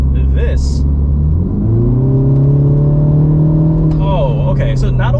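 An upgraded 2023 Mini Cooper S accelerates with a rising engine drone heard from inside the cabin, pitch climbing steadily through the gears, with a voice speaking briefly over the engine near the start and again toward the end.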